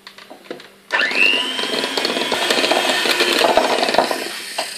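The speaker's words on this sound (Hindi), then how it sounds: "1/2 टीस्पून हम इसमें वनीला एसेंस का डालेंगे, और इसे मज़ीद 1 मिनट और बीट करेंगे।" An electric mixer beats creamy cake batter with vanilla essence for a coffee cake, starting abruptly after a few faint knocks and whirring steadily and loudly with a scraping, rattling texture.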